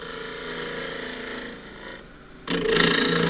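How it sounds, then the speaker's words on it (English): Spindle gouge cutting the top of a spinning green elm crossgrain tube on a lathe, a steady close rasping scrape that dips quieter briefly then returns louder and harsher. "I want to true up the top. So spindle gouge again."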